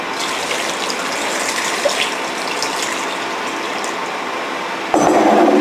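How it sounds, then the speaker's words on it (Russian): Cold water gushes steadily over boiled potatoes, a continuous rushing splash that turns brighter and harsher near the end, with no talking. "И заливаем холодной водой."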